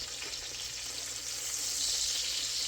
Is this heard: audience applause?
no